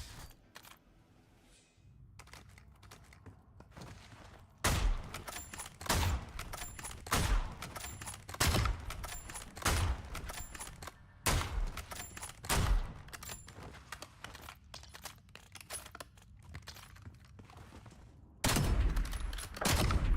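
Sniper rifle shots in Call of Duty ring out as sharp, loud cracks, roughly a dozen spaced a second or so apart across the stretch, with the strongest blasts near the start and end over low game background noise.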